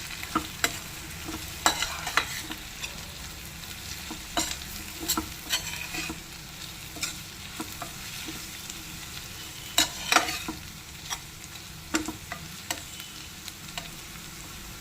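Chili powder and turmeric fry in oil for a bachelor-style egg curry, giving a steady, close sizzle with repeated scraping and clicking as a spoon stirs the pan, and no talking.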